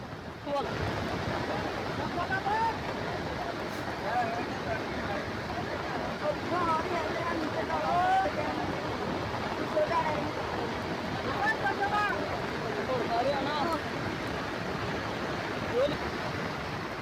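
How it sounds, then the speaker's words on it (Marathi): Dahel waterfall in the Satpura hills on the Maharashtra–Gujarat border, swollen by flood after heavy rain, roars as a dense, steady rush of water that stays loud and unbroken throughout. "सातपुड्यातील दहेल धबधब्याचं रौद्ररूप पाहायला मिळतंय"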